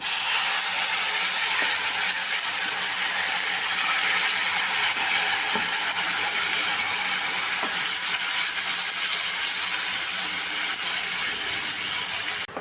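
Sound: ground masala paste sautéing in hot oil

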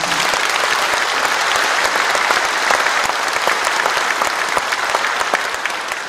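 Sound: audience applause for the mayor

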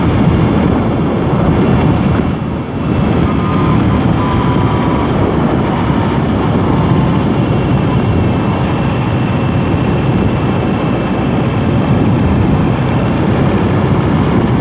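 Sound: BMW R 18 cruiser motorcycle engine at low RPM

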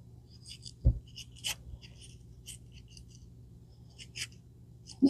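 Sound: cutting the core out of a tomato

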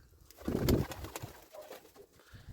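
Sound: pigeon cooing

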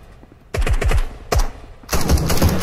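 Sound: gunfire in a video game

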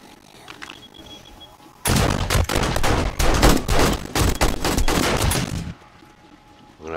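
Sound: gunfire in video game 7 Days to Die

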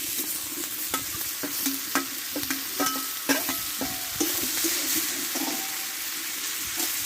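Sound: sautéing spice paste and vegetables in a pan

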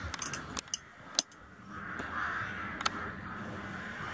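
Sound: crows cawing

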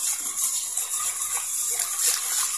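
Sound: water poured into flour mixture for palabok sauce

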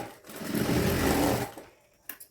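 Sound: sewing machine stitching lace onto a blouse

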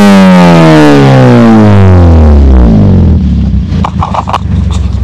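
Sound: Toyota Vios exhaust revved hard

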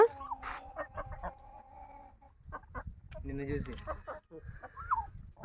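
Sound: chickens clucking

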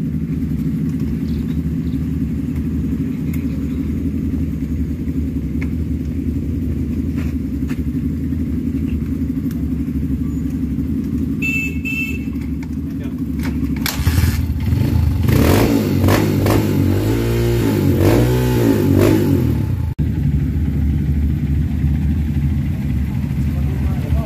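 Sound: motorcycle engine started and revving

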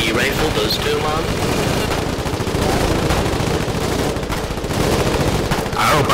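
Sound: AD rifle gunfire in Foxhole video game

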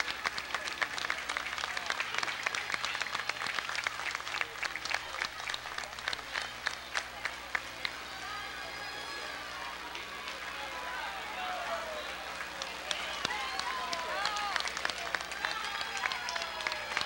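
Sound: applause during parade of Jeeps

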